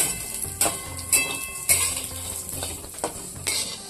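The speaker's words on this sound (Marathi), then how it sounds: "आता ह्या शेवया अशा चांगल्या खमंग अशा भाजून घ्यायच्या।" Sweet shevai vermicelli roasting in ghee in a pan while a spoon stirs it: close, rhythmic scraping clinks roughly every half second over a faint steady sizzle, with no talking.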